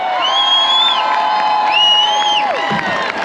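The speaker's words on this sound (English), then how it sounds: "a big cheer for Palestine and Palestine Action." A protest crowd in Glasgow cheers and whoops in a dense, loud wash of voices with rising shouts, sustained across the moment.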